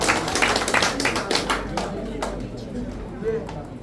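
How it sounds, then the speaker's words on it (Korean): Applause from an audience at an event welcoming association leaders, with scattered claps mixed into crowd chatter and voices talking over it. "여러분 큰 박수 부탁드립니다."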